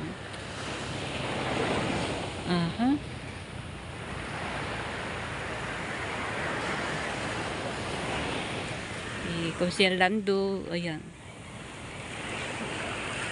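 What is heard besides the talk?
sea waves on the shore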